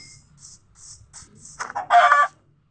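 A Minecraft chicken clucks in-game: a few faint, soft tones give way to a short, louder burst of clucking near the end.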